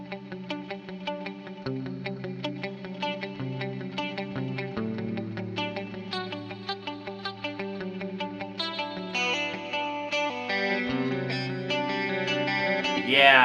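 A PRS electric guitar plays a clean tone from the split middle pickup position, picking bright, muted notes and chords in a steady flowing line, with a chorus-like shimmer and a slight echo.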